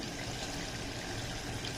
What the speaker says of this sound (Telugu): ఇదిగోండి నేనైతే వాటర్ ఇలా పోస్తున్నాను